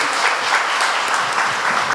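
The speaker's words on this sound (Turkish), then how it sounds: "bir alkış rica ediyorum" A crowd at a workshop on gender equality held by Seyhan Municipality applauds, a dense steady clatter of many hands clapping together throughout.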